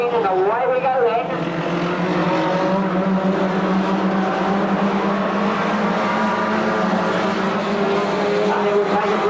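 Race cars roar off the green flag at Ringwood Raceway in the 1980s, a loud, continuous, rising engine drone from the pack, with a commentator talking over it.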